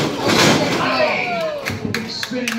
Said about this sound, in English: that roaring elbow hit him really hard